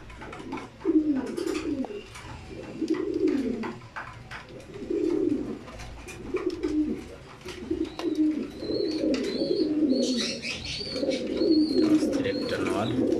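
Pigeons in a loft, with a newly paired hen among them, coo in repeated rolling phrases every couple of seconds, close and clear, with brief higher chirps from other birds and faint clatter in the background.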